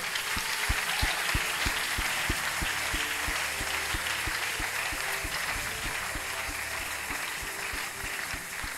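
A church congregation claps in a steady, fast rhythm during a prophetic service, sharp regular beats over a loud crowd wash of cheering and voices.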